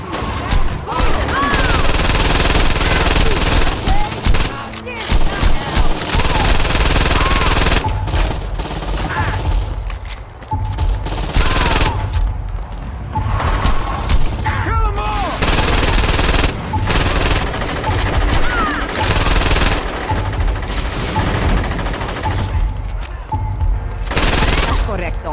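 Sustained bursts of automatic gunfire in the video game Saints Row 2, loud and continuous fusillade with rapid repeated shots, brief lulls, and occasional voices over the shooting.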